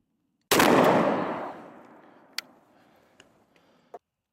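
A single loud 20 gauge shotgun blast with turkey loads at an outdoor range, echoing and decaying for a few seconds, followed by a few faint clicks.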